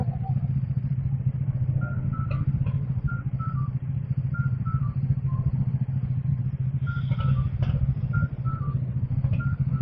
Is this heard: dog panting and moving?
no